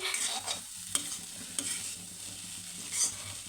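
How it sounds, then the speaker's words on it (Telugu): Black-eyed peas with chili powder stirred in a pan for a snack, a soft steady sizzle under scraping and a few sharp spoon knocks against the pan, close and moderately quiet, with no talk. "కారం ఒక నిమిషం పాటు అయితే ఉడికించి వేయించుకోవాలి"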